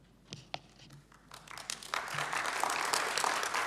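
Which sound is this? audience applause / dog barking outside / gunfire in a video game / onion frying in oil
audience applause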